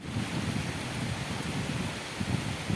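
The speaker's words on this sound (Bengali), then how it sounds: "বাইরে খুব ঝড় হচ্ছে, বৃষ্টি হচ্ছে" A storm blows outside, with wind and rain merging into a loud, continuous rushing roar that holds steady throughout, no voices present.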